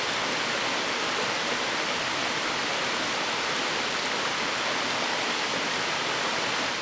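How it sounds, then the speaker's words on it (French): A waterfall where salamanders live roars steadily and close, a dense, unbroken rush of falling water that fills the whole scene without pause. "je vous présente la cascade aux salamandres."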